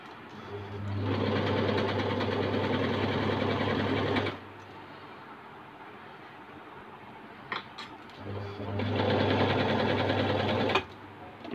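An Usha Queen Stitch sewing machine runs a normal straight stitch in two bursts of fast, steady mechanical whirring and needle clatter, close and loud, separated by a quieter pause with a few clicks.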